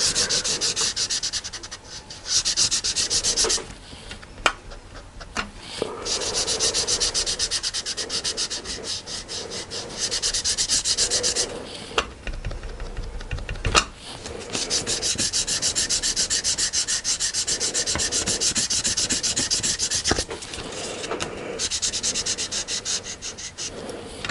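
A tool rubbed back and forth across a 3D embossing folder on card, producing a steady, close scratchy sanding sound in long strokes with short pauses between passes, no voices.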